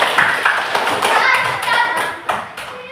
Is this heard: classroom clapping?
yes